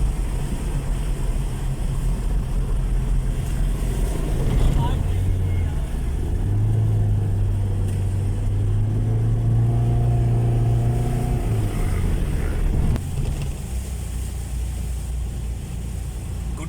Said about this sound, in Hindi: इस वक्त हमारी आधी गाड़ी डूबी हुई है पानी के अंदर।